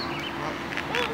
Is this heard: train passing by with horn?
no